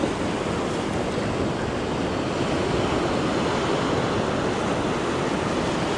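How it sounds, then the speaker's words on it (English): Ocean waves and surf rolling in with the rising tide at a fishing beach, a steady loud broadband wash with some wind noise and no distinct breaks or voices. "Tide's starting to roll up"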